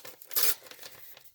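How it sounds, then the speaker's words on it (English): A paper envelope torn open close by, a quick loud rip followed by softer crinkling and rustling of the paper. "just opening the envelope here quick"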